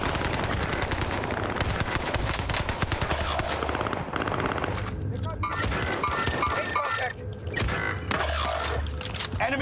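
Video game automatic gunfire rattles in rapid continuous bursts, loud and close, with brief pauses between strings of shots and a voice talking over parts of it.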